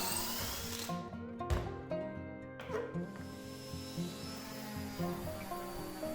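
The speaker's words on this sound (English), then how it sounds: "we broke out the pocket hole jig, and we're going to use this to put the holes for the top attachment on the aprons" Power drill boring pocket holes through hardwood side-table aprons with a pocket hole jig, a steady close whirring motor with brief bursts of bit chatter as each hole is cut.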